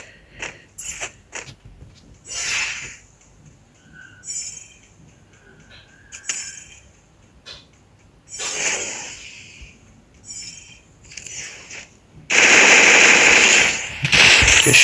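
Gunfire in a shooter video game with an MP40 among the weapons: scattered sharp shots and short bursts, then a loud, sustained volley of automatic fire near the end.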